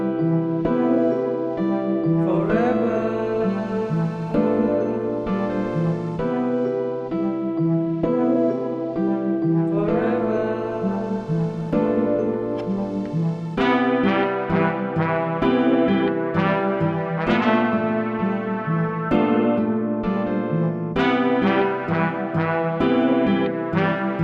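A melodic synth and keys sample washed in reverb and delay plays alone for the whole stretch: layered tonal chords shift in steady phrases over a low bass line, with echoing tails carrying each note.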